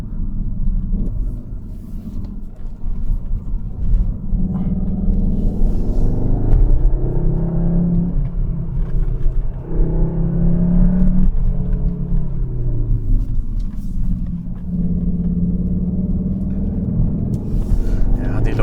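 A Cupra Leon estate climbs the Klausen pass road, its engine a steady low drone that swells and eases with throttle changes, heard from inside the cabin under continuous talk.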